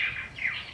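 Purple martins calling in the early morning over Florida during their southward migration, a brief run of distant chirps and warbling tweets drifting in the open air with no one speaking.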